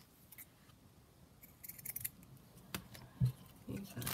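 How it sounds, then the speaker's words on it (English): Scissors snip through paper, cutting it roughly to size for a junk journal craft project; a few quiet, close snips and rustles build toward the end, with no talking. "I will just cut this kind of roughly to size."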